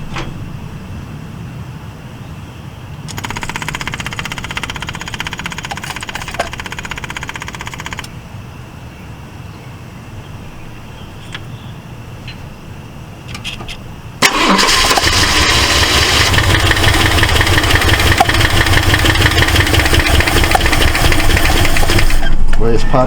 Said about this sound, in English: Well, it's popping back through the carburetor.